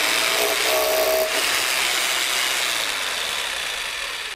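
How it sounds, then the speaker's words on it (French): A drill bit bores into a hollow red brick wall with a loud, steady grinding whine that suddenly shifts as the bit breaks through into the hollow, then continues evenly before stopping. "on a vu très nettement que d'un seul coup, la mèche est partie, donc je suis dans un matériau creux"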